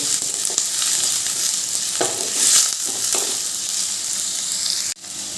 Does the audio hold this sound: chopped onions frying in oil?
yes